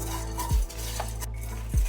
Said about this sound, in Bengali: এবার একটু ড্রাই রোস্ট করে নিতে হবে মশলাগুলো।